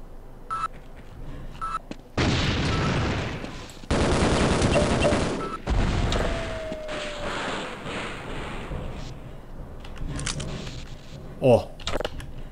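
Turret gunfire in Half-Life: G-Invasion comes in loud broadband bursts around the middle, with sustained rattling stretches and brief pops, mixed with game noise and a voice nearby.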